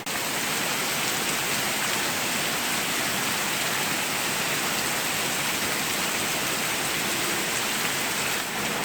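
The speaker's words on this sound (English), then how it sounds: "It's starting to rain more." Steady, dense rain pouring down close by, a continuous hiss that never lets up for the whole stretch, with no voices.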